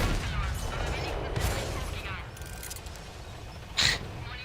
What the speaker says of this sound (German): Der Schuss kommt wieder eine Sekunde verzögert raus.